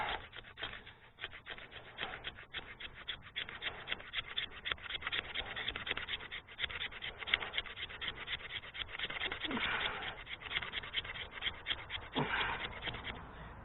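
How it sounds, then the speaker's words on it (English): A budget Perkin handmade bushcraft hunting knife scrapes steadily along wood, a continuous close rasping with quick repeated strokes and a few sharper scrapes, no talking. "We're going to do some scraping here."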